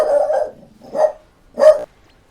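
Three short barks from a French Bulldog, reacting indoors, come as a longer first burst followed by two clipped yaps, fairly close and loud with quiet gaps between.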